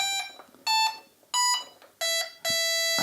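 Vintage CGL Puck Monster LCD handheld game with a broken display, still playing its game sounds: bright, piercing electronic beeps in short bursts, then a longer sustained tone, loud and close, with no talking.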